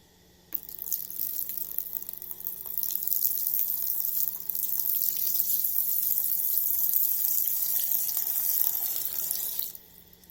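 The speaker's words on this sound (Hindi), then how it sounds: "आइए अब इस Realme C2 को पानी में डुबा देते हैं" Running water from a tap pours steadily into a container as a Realme C2 phone is submerged, a close, continuous splashing hiss that starts abruptly and cuts off near the end.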